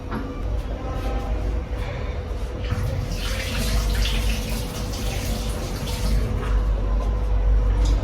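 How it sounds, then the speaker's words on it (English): Hands are washed under a running tap in a home kitchen before dough is made. Water pours in a loud, continuous, close-up rush with small splashing changes and no pauses. "So I need to wash my hands first."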